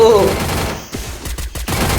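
Gunfire from a Clash Squad match in the mobile game Free Fire: a few sharp shots, then a quick burst of rapid fire, loud against game background noise.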